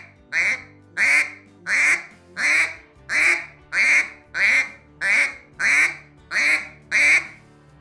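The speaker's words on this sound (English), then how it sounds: "sound like multiple ducks on the water" A duck call blown in a steady rhythm, about eleven loud raspy quacks evenly spaced, like several ducks quacking on the water.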